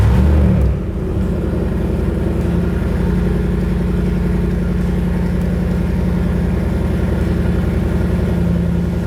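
A Jeep JL Wrangler engine idles steadily and close by, a deep, even rumble that barely changes over several seconds after a brief bump at the start.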